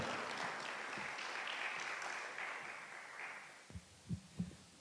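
An audience applauds guests at an author talk, a broad wash of clapping that slowly thins and fades out, leaving a few low thumps at the end.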